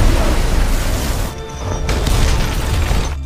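A large explosion in a burning tower bursts out as a heavy, dense boom with a broad roaring rumble, loud and continuous across the moment with a brief dip midway.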